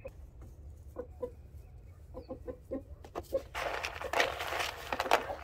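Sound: chickens clucking in a henhouse

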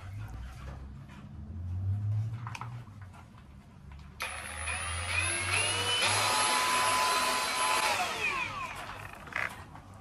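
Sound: hand held sander/polisher polishing rock pendant

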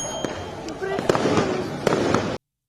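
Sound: fireworks exploding

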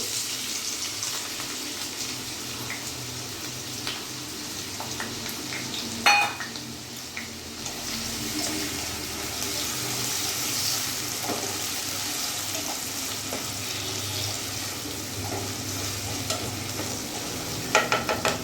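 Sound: chopped onions frying in hot oil in a wok

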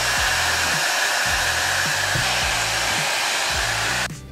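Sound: hair dryer blowing hair dry

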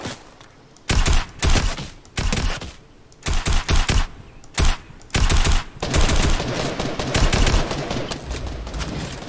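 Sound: gunfire from a gun in the video game Fortnite

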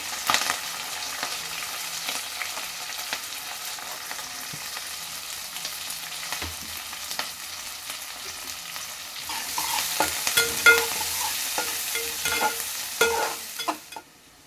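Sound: chopped green chillies and onions frying in a pan

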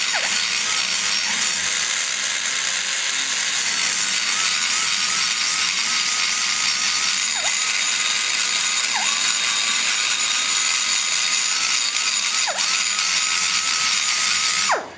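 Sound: power tool grinding into aluminum of an Edelbrock intake port

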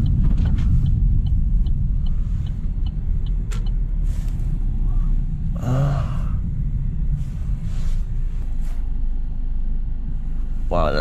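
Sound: micro van camper driving on the road

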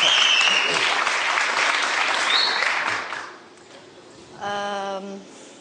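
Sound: audience applause for a singer on a TV talent show

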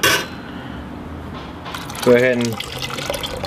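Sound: steeped brewing grains draining into pot

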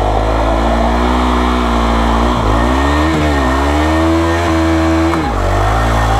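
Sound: KTM Duke 390 motorcycle burnout, engine revving and tire squeal

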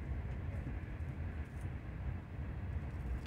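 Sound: passing train outside

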